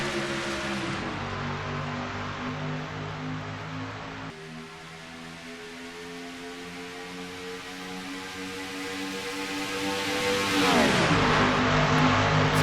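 Race cars at Riki Raceway roar as they accelerate after the green flag, a loud droning engine note climbing steadily in pitch, dipping briefly, then swelling again toward the end; no speech heard.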